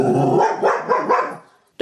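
A dog barks loudly and close in a short gruff burst of several barks and a growl, then silence and one final bark right at the end.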